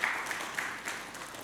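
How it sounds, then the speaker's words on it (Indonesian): A church congregation claps during a Sunday service, a brief continuous wash of applause from many hands that fades slightly as it goes. "Berikan tepuk tangan yang meriah buat Allah kita."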